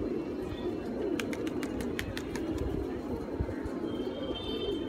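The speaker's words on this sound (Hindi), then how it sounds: "दाने पे कबूतर बुला लिए थोड़े से यहाँ।" Pigeons coo repeatedly at scattered grain, a steady low murmur of overlapping calls close by, with occasional brighter chirps and clicks layered over the cooing.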